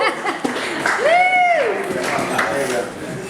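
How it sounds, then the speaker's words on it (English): Applause from a book launch event crowd in Austin, Texas, a scattered, moderately loud patter of clapping mixed with a whooping voice and some chuckling. "I feel like I'm wearing you guys out with all the applause."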